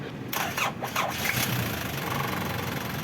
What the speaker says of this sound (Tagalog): pwede natin siyang paandarin mga boss para malaman natin kung iingay pa siya o hindi na